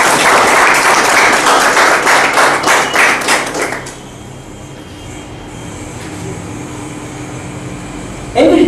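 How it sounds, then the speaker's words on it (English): Audience applause at a Toastmasters meeting, a loud dense burst of clapping lasting about four seconds before fading into quiet room tone. "So we give him a big round of applause to Ralph Smigley."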